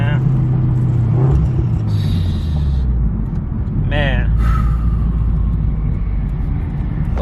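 A turbocharged Toyota 86 / Subaru BRZ engine accelerates with a loud, rising rumble from inside the car, the revs climbing and falling as voices talk over it.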